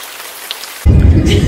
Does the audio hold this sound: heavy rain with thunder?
yes